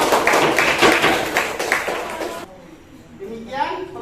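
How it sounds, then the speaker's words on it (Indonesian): Schoolchildren in a classroom clap for a classmate after a prayer demonstration, a dense burst of many small hands for about two and a half seconds before it fades to quiet, with a little chatter coming in at the end. "Tepuk tangan untuk temannya."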